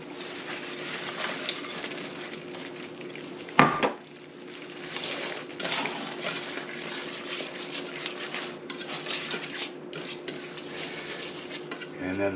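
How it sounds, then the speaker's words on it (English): Peas and asparagus land in bacon grease in a pan, with a sharp metallic clank early on, then ongoing stirring, scraping of utensils against the pan and a light sizzle at moderate loudness. "Now we're going to add in our peas, asparagus with that bacon grease, and the"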